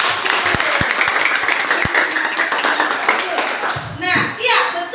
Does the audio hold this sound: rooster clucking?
no